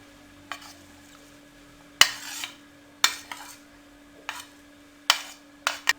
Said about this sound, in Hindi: अब इसको अच्छे से मिक्स कर लें।